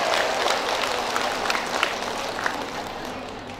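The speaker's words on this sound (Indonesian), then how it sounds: "tepuk tangan buat semua." Applause from women of rebana (frame drum) groups at an indoor community ceremony handing over drum equipment, a dense, steady crowd clapping that runs throughout, fairly close and loud.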